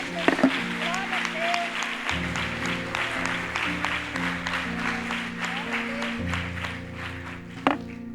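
A church congregation applauds in a dense, steady patter of many hands, while sustained keyboard chords hold underneath and shift pitch a couple of times, with a few sharper knocks near the start and end.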